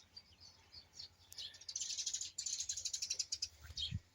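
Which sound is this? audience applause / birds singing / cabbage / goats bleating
birds singing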